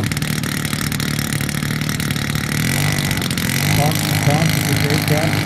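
A large RC Yak 54 model airplane with a 37-inch propeller and 148-inch wingspan runs its engine, a steady loud drone that rises slightly toward the end, with voices talking over it.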